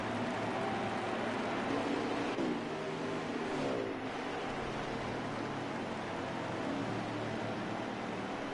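Racing truck engines roar steadily as two trucks power out of a corner on a race track, a loud continuous drone with a brief shift in pitch midway.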